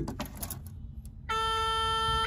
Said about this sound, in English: You hear the alarms, the warning buzzer.